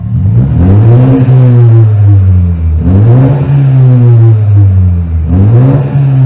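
BMW Z4 sports car with a custom exhaust and muffler tip, in normal mode, revved to about 4000 rpm three times in a row; each rev is a loud, close engine rise and fall with a deep exhaust tone.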